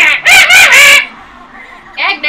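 Loud squawking bird calls from the Kazooie character in the Banjo-Kazooie video game: a brief cry followed by a burst of harsh, rapid squawks, then a shorter call near the end.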